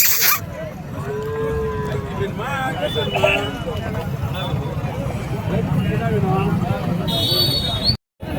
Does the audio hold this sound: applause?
no